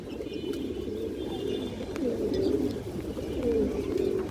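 Pigeons, Giribaz and other fancy breeds, coo in soft, low, rolling phrases that repeat steadily over a constant hum, close and moderately loud, with no voices.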